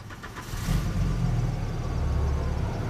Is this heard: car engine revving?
yes